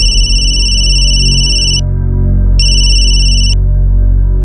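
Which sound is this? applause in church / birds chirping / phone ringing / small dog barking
phone ringing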